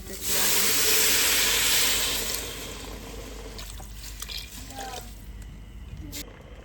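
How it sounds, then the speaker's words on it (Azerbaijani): Liquid drained off canned or cooked tomatoes in a home kitchen, a loud hissing pour for about two seconds that tapers into softer trickling and light clatter. "Suyunu tökürəm."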